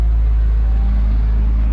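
BMW ZHP salvage car idling with a steady low engine rumble as it is driven onto a trailer, constant and close with no talk.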